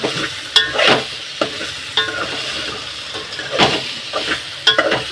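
Okra and tomato curry is stirred in a hot pan, with repeated scraping spoon strokes over a continuous sizzle, close and clear.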